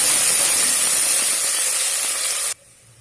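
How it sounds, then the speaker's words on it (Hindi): Finely chopped onions hitting hot oil in a pan for sarson saag, a loud, bright sizzling hiss that holds steady for about two and a half seconds, then cuts off abruptly. "अब प्याज को भूनेंगी"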